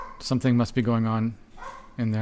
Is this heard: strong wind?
no